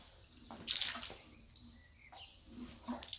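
Water is poured or splashed onto a raw concrete surface to wet it before smoothing and finishing, heard as quiet, intermittent splashing and trickling with a louder gush near the start.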